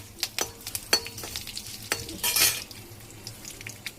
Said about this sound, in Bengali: একটু নেড়ে ছেড়ে নেওয়ার পরে আমি দিয়ে দিচ্ছি 2-3টে কাঁচা লঙ্কা।